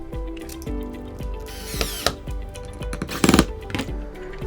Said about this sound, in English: just very gently screw it down until it hits and bottoms out there